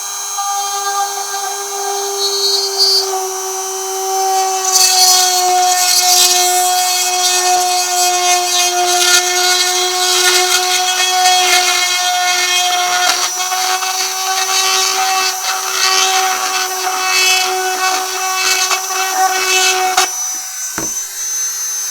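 A power drill boring a hole in a C-3PO droid part, a steady high whining drone lasting about twenty seconds, loud and close, ending with a brief clunk as it stops.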